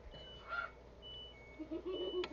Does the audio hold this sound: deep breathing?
no